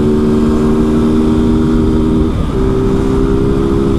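A Honda Fan 160 motorcycle with a jet camshaft and unfiltered original exhaust runs loud and close, holding a steady throttled drone with a brief dip midway before settling back into a constant roar.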